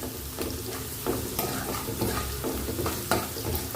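Amaranth leaves (thotakura) frying in oil for a Krishna-district-style fry, with a close, busy sizzle and repeated stirring scrapes against the pan, no speech.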